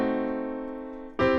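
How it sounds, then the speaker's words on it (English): A sustained common-tone diminished seventh chord, rich and steady, fading slightly before a new chord strikes loudly near the end, with no voices. "We're going to call this a common tone diminished 7th."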